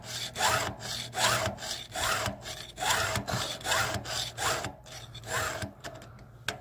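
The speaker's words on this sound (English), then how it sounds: "So when we first start filing, just starting to touch the roller now" A chainsaw chain is filed by hand in a Stihl FG2 file guide mounted on a bench: about a dozen rhythmic rasping strokes, close and moderately loud, evenly spaced, with no speech.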